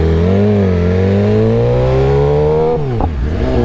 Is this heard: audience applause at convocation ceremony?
no